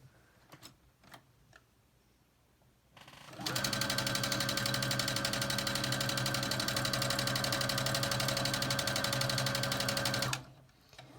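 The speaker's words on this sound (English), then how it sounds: "So then you just line up the top and sew it." A sewing machine runs steadily for about seven seconds stitching a seam on a quilt block, a fast even mechanical whir, preceded by a few soft handling clicks.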